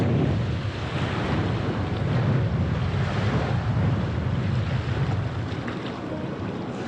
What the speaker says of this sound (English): I think the wind is coming from the west. Actually, no, it's coming from a little bit northwest.